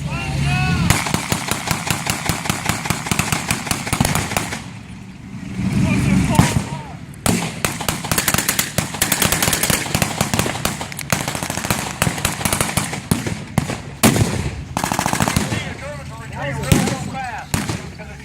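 World War II battle reenactment at a military museum in Indiana, with artillery booms and rapid bursts of gunfire rattling almost continuously, loud and close, alongside vehicle noise and a voice speaking in places.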